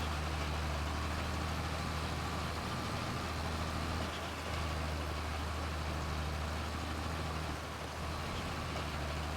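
A 30 horsepower tractor in Farming Simulator pulls a load up an incline, its engine giving a steady, continuous low drone that holds at an even loudness throughout, with no voices.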